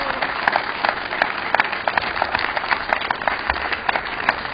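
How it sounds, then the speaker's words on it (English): A crowd applauds Marines at an outdoor parade, a steady spread of many clapping hands with some distinct individual claps standing out, heard close and fairly loud with no talk over it. "So a round of applause for them back there."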